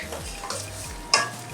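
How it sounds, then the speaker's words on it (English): A pot of soup boils on a stove in a home kitchen, giving off a soft bubbling hiss, with a brief clink of a utensil against the pot near the end. "This thing is boiling."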